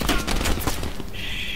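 Sharp gunfire bursts ring out in Call of Duty Black Ops Cold War, a few loud close shots in quick succession that then trail off into a ringing tone.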